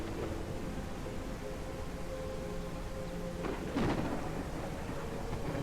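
Rain and thunder in the video game Cauldron Chronicles: a constant soft patter of rain beneath a low rumble, with one stronger thunder crack swelling near the end, all fairly quiet and distant.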